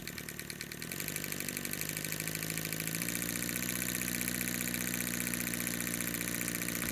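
A Martin Howes and Baylis twin cylinder model marine engine runs close by, a rapid even mechanical chatter that starts softer and settles into a steady, slightly louder rhythm.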